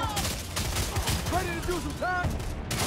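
The Wraith's repeater pistol in the Lawbreakers shooter game fires in rapid bursts of sharp shots, with chirping, sweeping game effects and distant action layered over a busy match.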